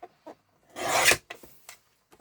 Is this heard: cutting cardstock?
yes